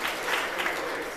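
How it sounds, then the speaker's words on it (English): Brief, fairly quiet applause from a conference audience during closing thank-yous, a soft wash of clapping lasting about a second. "feel free to clap profusely at all those"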